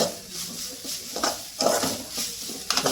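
Ingredients for a village-style Koduva fish thokku being sautéed over a high flame, with spatula scrapes and clinks against the pan over a soft background sizzle, sharper stirring strokes breaking through near the middle and end.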